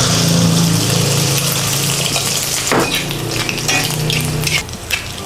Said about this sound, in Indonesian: Jadi telurnya itu begitu terkena minyak panas, dia langsung naik menggimbal.